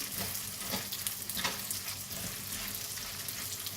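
Raisins frying in ghee for panjiri, a steady, dense sizzle with soft crackling, close and even in loudness from start to finish, with no talking.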